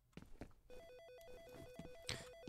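A telephone rings in the FEAR Extraction Point video game, a repeating electronic trill heard fairly quietly among other game noises and clatter.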